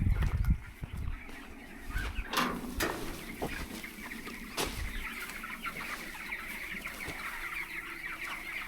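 Broiler chickens in a contract-farming poultry shed cluck steadily as a dense flock, with a few louder squawks and wing flaps standing out near the start.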